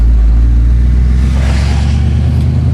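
A 1979 Pontiac Firebird Trans-Am convertible rolls down the road on a post-repair test drive, its engine a loud, deep steady rumble with road and wind noise filling the cabin.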